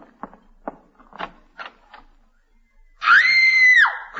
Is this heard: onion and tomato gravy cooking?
no